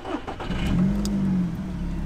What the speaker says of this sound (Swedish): Jag ska ta och starta bilen.